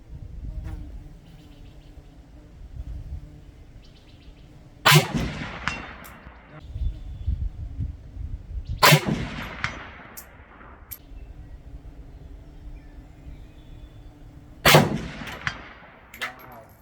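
Romanian RPK rifle fires three sharp shots at roughly 5, 9 and 15 seconds outdoors on a range, each followed by a bright metallic ring from steel targets, with quiet background hum between.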